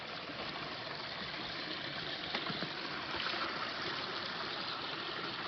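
A mountain stream churned by many small waterfalls rushes in a steady, broad hiss, close and unbroken, with no voices over it.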